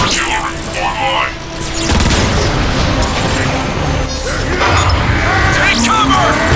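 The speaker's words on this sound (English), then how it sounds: "I'd be curious as to what an artillery strike would do to that marauder" Artillery strike explosions in the Transformers: Fall of Cybertron video game, a dense barrage of booming blasts and crashing impacts that rolls on loud and continuous, mixed with mechanical game effects.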